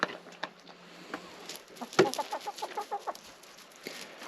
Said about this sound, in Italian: Vedete la gallina col collo spelacchiato.